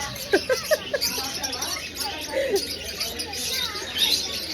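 A pet parrot gives a quick run of sharp chirps and squawks near the start, then softer calls continue over a light background hiss.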